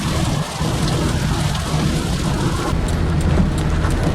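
Heavy rain pours steadily with low rumbling thunder during a Florida thunderstorm in July, a dense continuous wash of noise with no voices.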